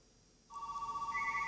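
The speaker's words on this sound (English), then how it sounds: "And the phone calls come in." A telephone starts ringing with a steady electronic ring tone after a brief quiet moment, moderately close and alone.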